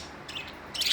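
A pet budgie chirps in two short, bright bursts, the second louder and nearer, against a quiet room.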